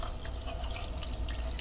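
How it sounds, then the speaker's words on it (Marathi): Water pours steadily into a pan of sautéed mixed vegetables for soup, a faint, continuous trickle and splash without a break. "त्याच्यामध्ये मी पाणी घालणार आहे"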